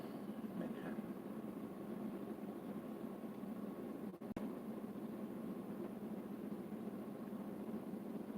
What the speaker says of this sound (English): See that humming? The humming sound, that's like the engine